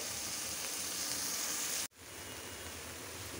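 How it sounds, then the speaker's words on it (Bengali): Spices sizzle in a pan alongside fried fish, a steady close hiss that cuts off abruptly partway through, then a quieter frying hiss continues. "এখন মশলাটা কষাবো।"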